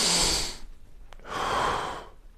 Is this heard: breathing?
yes